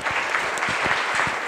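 An audience at the CampusTec 2016 game development event applauds. The clapping is steady and dense, from many hands in a moderately sized room.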